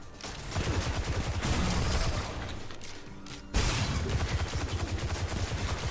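Dense bursts of video game gunfire from Destiny 2, rapid overlapping shots filling the whole stretch, with a brief dip in intensity before a loud volley resumes at close range.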